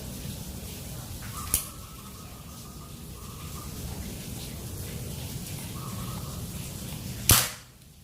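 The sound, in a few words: PCP air pistol shot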